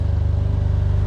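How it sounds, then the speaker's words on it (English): Deep, throbbing sports car engine idle with a rapid pulsing exhaust burble as it is revved, steady and close for about a second. "I'll give it some revs, so hopefully you can hear it"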